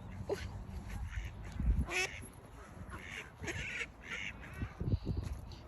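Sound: ducks quacking

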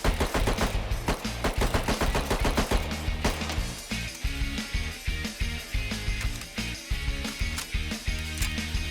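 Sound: homemade SMG firing in the video game Rust

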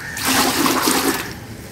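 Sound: water filling a bucket

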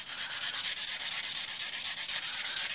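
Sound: sanding a small craft ornament

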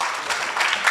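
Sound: audience applause

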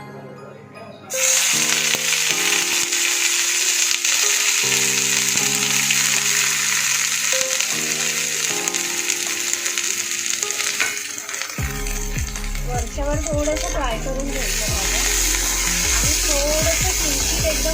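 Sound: three vegetables frying in oil

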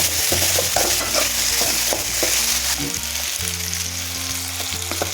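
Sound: potato stir-fry being stirred in hot oil

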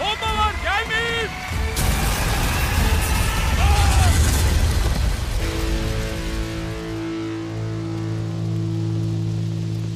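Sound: bombs exploding

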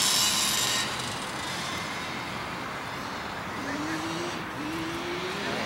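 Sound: Losi DBXL RC car with 38cc gas engine running

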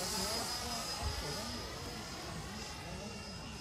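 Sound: FMS 80mm F-86 RC jet model flying

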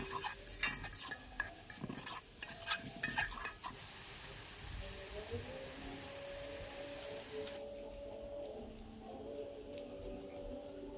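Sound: frying chopped onion and garlic with garam masala

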